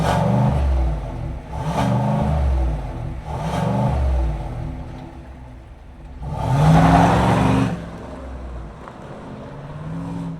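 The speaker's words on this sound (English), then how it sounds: "Let's fire it up and hear its growl." A 2025 Chevrolet Silverado LT Trail Boss with its V8 rumbles and is blipped through several short revs, each swelling and falling back, then one longer, louder rev before settling into a steady idle.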